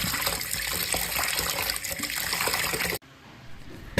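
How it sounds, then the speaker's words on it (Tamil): Mutton being washed in water, with a steady loud gush and splashing of running water that cuts off abruptly near the end, leaving a quieter background before a brief final splash. "நாம் மட்டனை கழுவி எடுத்துப்போம் நல்ல தண்ணியில்"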